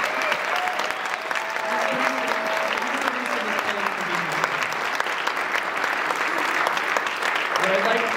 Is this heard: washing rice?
no